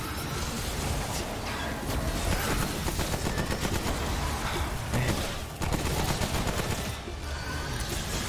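Constant, dense gunfire and explosions in the video game Remnant: From the Ashes, a loud, unbroken roar of overlapping shots filling the whole stretch, with only a brief dip partway through.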